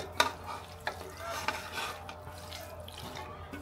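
Marinated pangas fish pieces going into a frying pan, with soft scraping and stirring over faint, brief sizzling, quiet and close, alone without talk.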